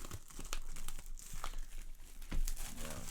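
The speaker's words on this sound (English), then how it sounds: "I'm just going to kind of just get the cellophane off here" Cellophane wrap crinkles and tears as it is pulled off an Arkham Horror card game expansion box, a close, busy run of crackling and ripping with a louder tear near the end.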